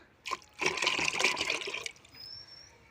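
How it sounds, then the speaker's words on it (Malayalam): Rinse water from a mixer jar is poured into a vegetable-waste compost mixture, a short gushing splash lasting just over a second, then tapering to quiet dripping. "മിക്സി ഒന്ന് കഴുകി ഒഴിച്ചേക്കാം"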